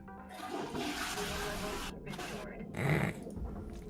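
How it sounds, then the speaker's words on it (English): A toilet flushes in a long rushing swirl of water in the video game Hardspace: Shipbreaker, with a gurgling surge near the end as the bowl refills. "We could hear that flush on stream, by the way."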